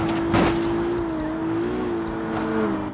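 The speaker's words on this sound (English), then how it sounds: "The slight little exhaust note does sound pretty good." A V6 car engine in a video game drones steadily with a rising and falling exhaust note, loud and continuous throughout, with no voices.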